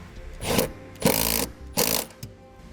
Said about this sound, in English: resecure the nut and tighten it back down